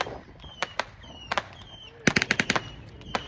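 MG-42 machine guns firing at a WWII reenactment, scattered bursts and single cracks at middle distance, with a tight cluster of rapid shots midway, over outdoor background noise.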